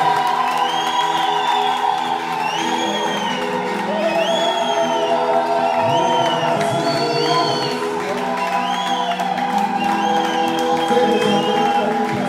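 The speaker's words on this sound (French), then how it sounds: "Le Seigneur a besoin des acclamations prophétiques." A worship congregation raises loud acclamations, cheering and whoops, a sustained wall of voices with repeated rising shouts and ululating cries over a steady crowd roar.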